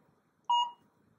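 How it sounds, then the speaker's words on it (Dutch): A workout timer during an abdominal exercise class gives one short, clear electronic beep in a quiet room. "Timer af."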